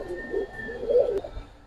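A pigeon coos in one short, soft, low phrase close by, with no voices around it.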